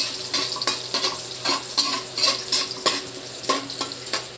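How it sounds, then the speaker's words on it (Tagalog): Ginger frying in hot oil in a kawali for squid-tentacle adobo in coconut milk, a bright steady sizzle punctuated by regular scraping and stirring strokes, close and loud, without any talking. "nagpainit na po tayo ng mantika sa kawali at unahin mo natin pag-isa yung luya"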